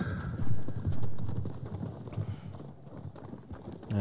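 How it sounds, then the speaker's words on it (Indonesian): Horse hooves galloping in the video game Ghost of Tsushima, a steady rapid clip-clop rhythm of hoofbeats, fairly close and prominent over a low rumbling game soundscape. "Kuda loh."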